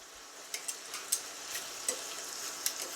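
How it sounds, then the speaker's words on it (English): Veggies stirred with pork chops frying in a pan for Italian pork chops, a steady soft sizzle under a few sharp utensil clicks and scrapes spread across the pan, close and fairly quiet with no talk. "you want to go ahead and stir the veggies, and you want to pick up your pork chops and kind of lay them on top of the veggies"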